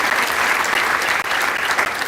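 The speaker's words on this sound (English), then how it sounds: "Yes, we can applaud for that." An audience at a European Climate Pact event breaks into loud, close, continuous applause, a dense clatter of many hands that holds steady throughout.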